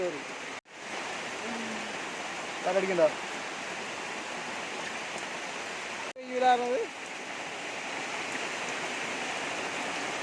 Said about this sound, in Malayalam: फिर से फिर से बारिश आ गया बहुत बहुत बड़ा बारिश है